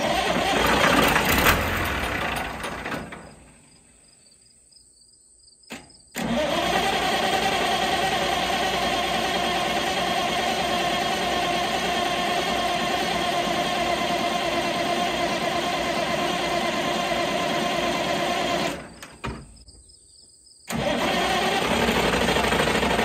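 A 3900-hour Allis Chalmers 7020 tractor engine, fueled after sitting, runs loud and steady, cuts out into near silence for a few seconds, cranks and catches again, then later drops out once more before restarting.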